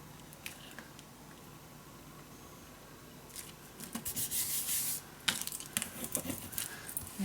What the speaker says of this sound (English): Make sure you burnish it all up.